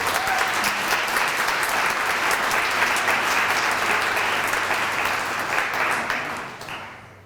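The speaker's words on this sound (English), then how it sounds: "Chief Stewart's time was partly taken up by Tom Stanton's applause" Audience applause at the Brunswick Downtown Association's 2023 annual meeting, a dense, steady clapping from a room of people that holds for several seconds, then tapers off at the end.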